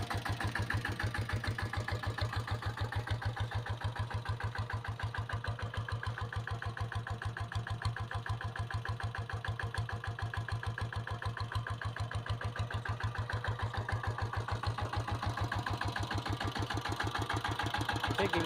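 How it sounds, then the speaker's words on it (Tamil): A diesel Royal Enfield Bullet motorcycle with self start idles steadily, its engine thumping in a fast, even beat close by with no voices over it. "வண்டி பீட்டை கேளுங்க."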